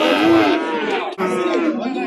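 A cow at a livestock market lets out a loud, drawn-out moo, close by, with a brief break partway through and a faint crowd murmur beneath.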